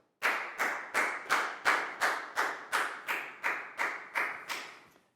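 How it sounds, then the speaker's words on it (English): Class applause for a student, heard as about a dozen evenly spaced, sharp claps in a steady rhythm, close and clear with no talking. "Big round of applause for Nadia, please, guys."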